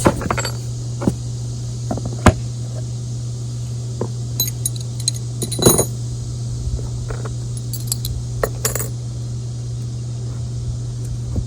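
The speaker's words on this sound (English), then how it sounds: "taking my press apart. And I can take these bolts out." Bolts being taken out of a flower press give off sparse, light metallic clinks and taps at close range, one brief cluster louder than the rest, all over a steady low background hum.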